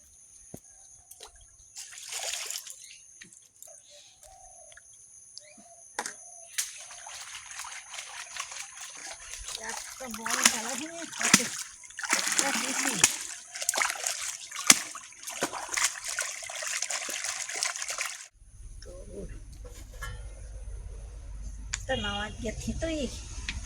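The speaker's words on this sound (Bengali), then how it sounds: "মাছ টাছগুলো ধুই নেই" Fish being washed by hand in a basin of water before cooking, with close trickling, splashing and sloshing in irregular bursts, growing busier midway, while a person talks intermittently over it.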